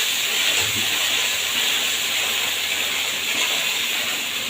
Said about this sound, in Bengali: পেঁয়াজ আদা আর টমেটোর পেস্টটা দিয়ে দেবো পুরোটা এই বেশ ভালোভাবে কষিয়ে নেবো যতক্ষণ না তেল ছাড়ে